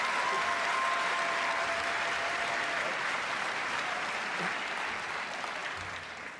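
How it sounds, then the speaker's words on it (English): Sustained, dense applause from a large audience at the British Academy Games Awards ceremony, a steady roar of clapping that holds evenly for several seconds before slowly tapering. "So big round of applause for this man."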